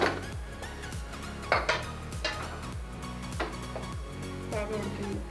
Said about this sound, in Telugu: కుక్కర్ మూత పెట్టండి